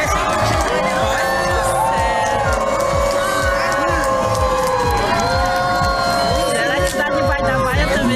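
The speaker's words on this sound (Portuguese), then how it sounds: "No vídeo é possível ouvir inúmeras vaias e as pessoas gritando que estão faltando seringa em nossos hospitais" A dense crowd shouting and jeering at a governor in Manaus, with many voices overlapping loudly and steadily throughout, rising and falling in a continuous roar.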